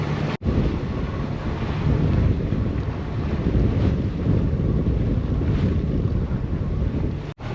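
A sailboat motoring slowly off Isla Las Paros near Mazatlan on the Pacific: a steady low engine and water rumble under heavy wind buffeting on the microphone, continuous and fairly loud, with two brief dropouts.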